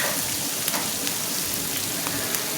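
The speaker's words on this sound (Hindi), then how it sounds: "अच्छे तरीके से हम इन्हें ब्लैक पेपर और सॉल्ट के साथ स्टर फ्राई करते हैं।" A close, steady sizzle of food being stir-fried with black pepper and salt, a dense crackling hiss with small pops and no voices.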